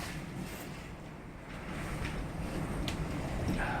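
Strong wind from Typhoon Jebi in Kansai, Japan, a dense steady roar buffeting the microphone, rising slightly louder toward the end with faint knocks in the rush.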